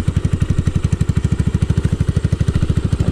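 A motorcycle idles through its exhaust pipe with a loud, close, rapid and even putt-putt pulse that runs steadily with no talking.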